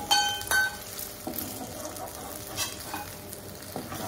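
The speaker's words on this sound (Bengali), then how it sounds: "এরকম লাল লাল করে ভেজে নিয়েছি কাঁকড়াগুলো" Crabs sizzle as they fry in a pan, a steady crackling hiss at close range, with a few clinks and stirring scrapes near the start and faint shifts of the bubbling.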